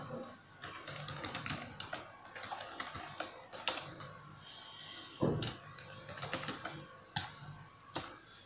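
Rapid clacking of a computer keyboard while code is typed for a C scanf input program, close and fairly loud, with irregular bursts of keystrokes and brief pauses between them.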